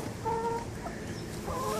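Chickens cluck softly nearby at low volume, with a couple of short clucks and a faint wavering call over quiet outdoor background.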